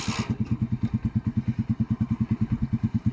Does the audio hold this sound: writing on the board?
no